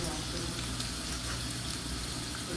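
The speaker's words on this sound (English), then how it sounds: "So this is the jeera and the okra is frying up" Okra frying in a pan with cumin seeds (jeera), a steady soft sizzle and crackle filling the clip, fairly quiet and without talk.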